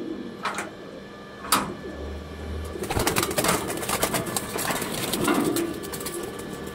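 Andhra Madrasi pigeons make scattered soft coos and wing flutters close by, with brief rustling and handling noises over a quiet room background.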